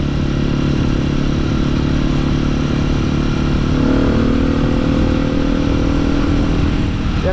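A motorcycle engine runs steadily at idle with a low, rumbling drone throughout, close by, with a slight shift in tone midway.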